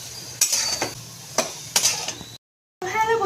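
Boiled chickpeas going into a ridge gourd curry in a pan: several clinks and scrapes of a metal spoon against cookware, spaced irregularly and close by, then a short silence followed by a different tonal sound.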